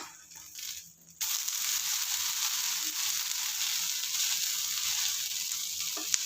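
Tomato rava dosa batter sizzles steadily on a hot pan just after being flipped, a continuous bright frying hiss that starts abruptly and holds at an even level, with no talking.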